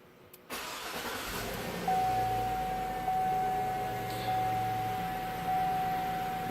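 A Cadillac engine started by a Viper remote start turns over and fires, then runs at a steady idle with a faint, thin whine carrying through it.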